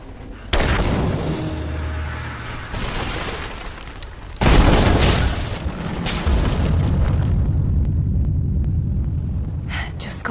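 In the Rise of the Tomb Raider video game, a Greek fire container explodes to topple an unstable statue, giving deep booming blasts and rumbling debris, with a voice talking over the action.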